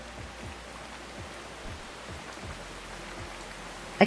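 Soft steady rain ambience from the horror video game No-Skin, a faint even patter of drops with a few light thuds beneath and no voices.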